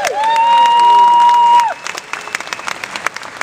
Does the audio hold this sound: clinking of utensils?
no